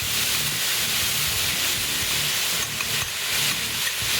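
Sriracha-style sauce sizzles and hisses steadily in a hot pan of red pepper chicken stir fry, a close, dense frying crackle lasting throughout with no talking.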